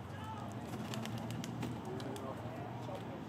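Racing pigeons released on a quick training toss about 15 miles out near Staten Island, with soft cooing and bird sounds against a steady outdoor noise bed and people talking nearby.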